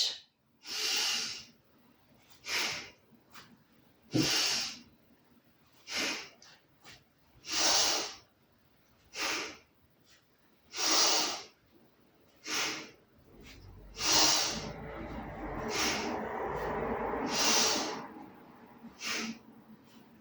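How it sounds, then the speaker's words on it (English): Forceful breaths in and out during a breathing exercise, about a dozen sharp, airy bursts at a steady rhythm, close and clear, ending in a longer sustained exhale. "strong breath in, strong breath out"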